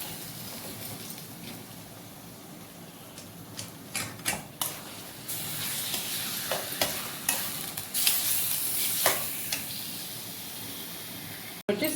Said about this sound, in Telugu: అల్లం పేస్ట్ చికెన్ వేసేసుకుందాం.